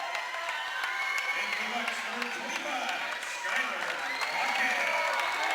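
Basketball crowd at a girls' high school game in a gym applauding a player, steady dense clapping throughout with voices murmuring underneath.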